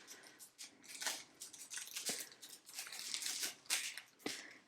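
An acrylic stamp block is pulled free of its plastic packaging, giving close, irregular crinkling and tearing rustles in quick bursts, with no talking.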